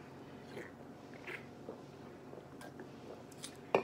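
Wet chewing and biting of a Sunday dinner with neck bones during a mukbang, soft squishy mouth sounds repeating close to the mic with a sharper crunch near the end.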